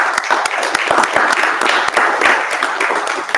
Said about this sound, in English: Let's give a big round of applause to Brendan